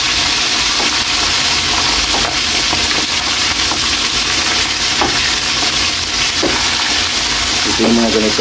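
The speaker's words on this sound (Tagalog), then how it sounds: "Ito yung mga ganitong prito lang, Kaylee," Fish sizzles and crackles steadily in hot oil, a loud continuous hiss with occasional pops and stirring clinks, voices faint in the background.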